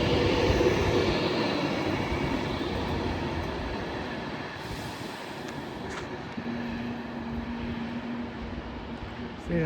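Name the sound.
train departing Nuneaton station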